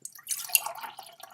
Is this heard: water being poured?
yes